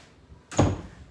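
A cabinet door in a house is opened or closed once, a single short wooden knock-thud after a quiet moment, near and fairly loud.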